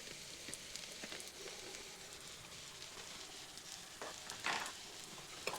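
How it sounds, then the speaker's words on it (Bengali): Masala with chili powder and garam masala frying in a pan for a flour and chicken recipe, a soft continuous sizzle with faint scattered crackles and a brief louder hiss near the end, quiet and close, no voices. "দিয়ে আরও কিছুক্ষণ মশলাটিকে ভেজে নিচ্ছি"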